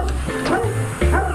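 Dogs bark and yip behind a door, short muffled woofs and a whimper mixed with a person speaking over them, all close and fairly loud.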